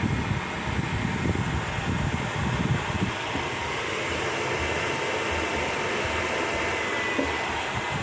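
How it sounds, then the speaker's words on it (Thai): The cooling fan of a SUOER 1000VA grid-tie inverter runs strongly, a steady, loud whooshing whir that holds for several seconds with no talk over it. "พัดลมก็ทำงานปกติเลยแรงมากนะครับ"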